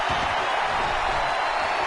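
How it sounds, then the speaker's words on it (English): Arena crowd in the WWE 2K19 wrestling game roars loudly and steadily for two seconds, a dense wall of audience noise with no distinct voices on top. "Listen to this crowd count the next one in."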